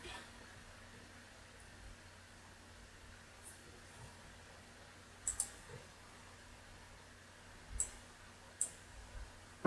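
Computer mouse clicks while opening and starting a VirtualBox virtual machine, heard as a few sparse, sharp, faint clicks spread over low fan hum, with no talking.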